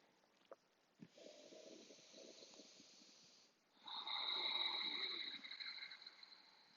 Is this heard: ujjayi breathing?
yes